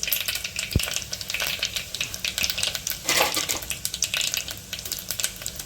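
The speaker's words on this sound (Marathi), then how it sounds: "तेल चांगलं तापलं आहे आपण याच्यामध्ये मोहरी घालूयात" Mustard seeds, cumin, coriander and fennel crackle and pop in hot oil in a pan while cooking a Marathi cluster bean curry, a steady close sizzle with sharp spattering bursts throughout.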